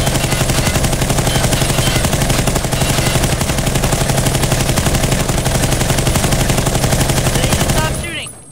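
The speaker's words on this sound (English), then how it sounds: "Stop shooting." Sustained rapid automatic gunfire in Escape from Tarkov, a loud continuous stream of shots close by that runs for about eight seconds before cutting off abruptly.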